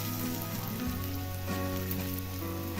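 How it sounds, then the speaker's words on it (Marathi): Tomato roasting in a hot pan after onions for a spicy dry mackerel chutney, a steady close sizzle and crackle of frying running throughout with no voices. "टोमॅटो पण चांगला भाजून घ्यायचा."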